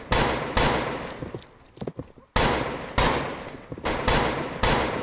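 Repeated loud gunshots from a Roblox Westbound western game, several sharp bursts close together with a brief gap of quieter scuffling between them.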